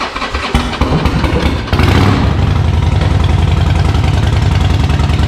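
A Harley-Davidson 48 motorcycle engine idles steadily and loudly up close, with a burst of revving near the start before settling into a continuous, even rumble.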